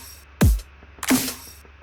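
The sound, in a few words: B version of kick and snare drum loop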